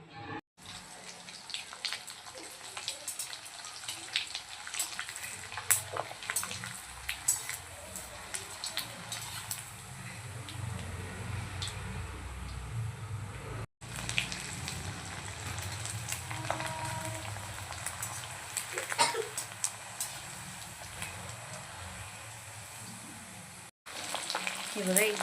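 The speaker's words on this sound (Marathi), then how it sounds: "एकदम गरम तेलामध्ये या तळायचे आहेत आपल्याला" Sabudana and potato chaklis, sun-dried until hard, fry in very hot oil with a steady, close sizzle and bubbling that holds for the whole stretch. Two very brief dropouts break the sound.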